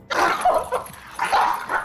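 Pug dogs bark and whimper in two close bursts of yips and whines, loud and near, with no talking.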